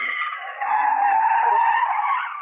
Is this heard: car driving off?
yes